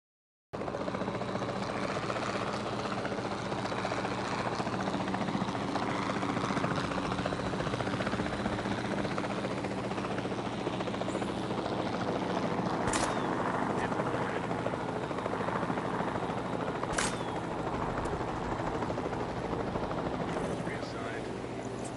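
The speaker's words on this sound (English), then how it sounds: "the sensible thing is to take a capture team helicopter" A capture team helicopter in the video game Jurassic World Evolution 2 flies with a steady, continuous rotor drone throughout, joined by a couple of sharp gunshot-like tranquilizer cracks partway through.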